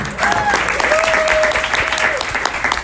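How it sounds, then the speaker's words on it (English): Applause from an audience fills the clip, a dense steady patter of clapping with a brief whistle-like tone over it. "give yourselves a round of applause for being here"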